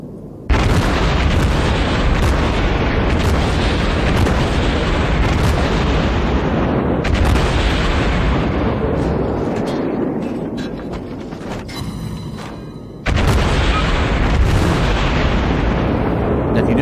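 Heavy naval gunfire from a St. Louis class cruiser battle in World of Warships, with booming cannon salvos and explosions rolling almost continuously. A brief lull with sharper cracks comes before the barrage resumes loud and dense.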